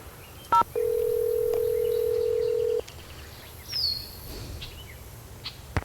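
A telephone is dialed in the Nancy Drew game The Secret of Shadow Ranch: a short burst of keypad tones, then a long steady dial tone lasting about two seconds, followed by faint chirps and quiet clicks.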